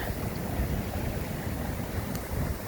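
Ocean waves roll in steadily on a rocky north coast shore, a continuous broad wash of surf and wind noise, moderately loud and close with no pause.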